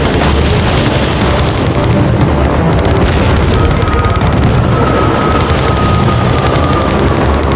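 A torpedo strikes the stern of the German battleship Bismarck, a loud, sustained explosive roar with a dense rumbling boom that fills the whole span without letting up.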